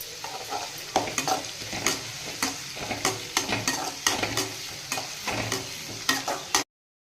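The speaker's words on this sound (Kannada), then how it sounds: "ಈರುಳ್ಳಿ ಅದಕ್ಕೆ ಚೆನ್ನಾಗಿ ಫ್ರೈ ಮಾಡಿ" Onions frying and being stirred in a pan, with a steady sizzle under repeated scraping strokes of a spoon at an uneven rhythm, close and moderately loud, ending abruptly.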